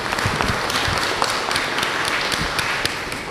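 Congregation at a Sunday church service claps for singers, a moderately loud, uneven patter of individual hand claps with distinct sharp strikes standing out from the mass.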